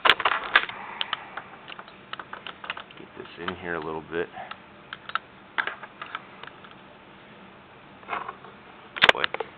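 Keys of an Underwood 5 manual typewriter clatter in quick irregular bursts, close and sharp, with someone talking over the strikes.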